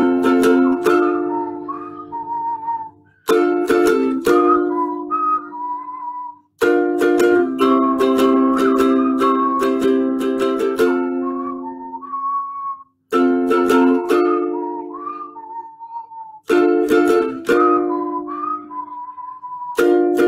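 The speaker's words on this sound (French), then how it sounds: "les 2 premières notes de sifflet" Someone whistles a melody in several phrases separated by short pauses, clear and close, with trilled and sliding notes.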